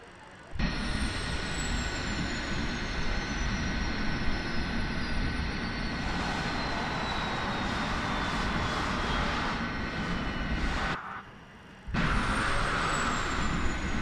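Airliner jet engines spooling up under throttle in Microsoft Flight Simulator, a loud steady roar with a rising whine, briefly cut off near the end before resuming.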